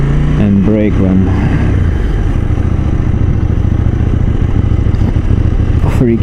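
A KTM 790 Duke motorcycle engine runs loud and close throughout, with a rising rev early on and steady engine drone afterward, under wind and road noise.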